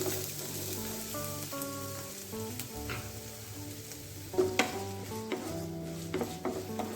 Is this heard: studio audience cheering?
no